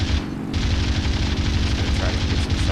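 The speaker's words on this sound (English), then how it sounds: "Just gonna try to get some shots with that machine gun." Rapid aircraft machine gun fire in War Thunder, a dense continuous stream of rattling bursts with low booming thuds underneath, loud and close, with a voice speaking faintly over parts of it.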